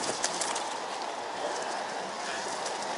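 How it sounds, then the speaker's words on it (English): Four pigeons settled on a person's lap give soft, low cooing that is barely distinct beneath a steady, fairly loud broadband hiss throughout. "I've got four pigeons on my lap."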